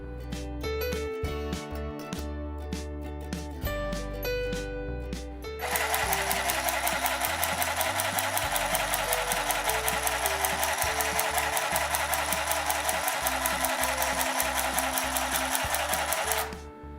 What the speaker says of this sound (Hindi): सिलाई मशीन को यूज़ करने के लिए हम स्टार्ट कर सकते हैं